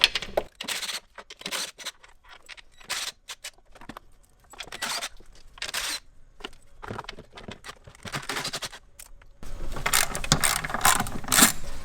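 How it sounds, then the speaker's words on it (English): A ratchet with an 11mm socket works loose the intake manifold bolts and nuts on a BMW N55 engine, giving close, repeated clicking in short bursts with handling noise between them. "Now we're just going to use an 11mm socket and remove all the bolts and nuts."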